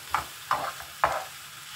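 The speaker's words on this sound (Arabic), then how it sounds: "نحرك شويه هنايا" A spoon stirs lamb tajine sauce seasoned with cinnamon, three soft scraping strokes at an even pace over a faint sizzle, close and quiet.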